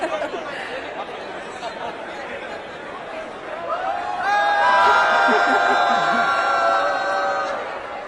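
Jubilant crowd at ISRO headquarters after the Chandrayaan-3 moon landing, with a mix of chatter, laughter and cheering swelling louder midway, sustained whoops and shouts rising over the murmuring throng.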